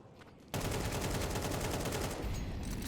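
Full-auto weapon fire in Counter-Strike 2 erupts after a brief lull as a loud, dense, continuous burst of rapid shots lasting over two seconds, with no talking.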